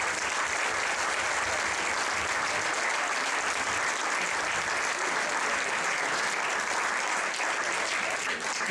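Steady, dense applause from a theatre audience at an Italian stage performance, a continuous wash of many hands clapping that holds at even strength throughout without a break.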